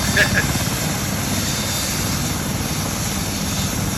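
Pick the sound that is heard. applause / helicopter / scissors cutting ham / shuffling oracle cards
helicopter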